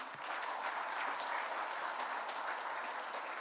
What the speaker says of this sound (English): He deserves a much bigger round of applause.